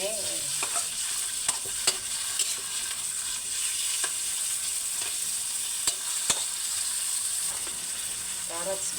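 Meat stir-frying in a pan with garlic and onion for pancit canton, a continuous loud sizzle with scattered sharp clicks and scrapes of a utensil against the pan.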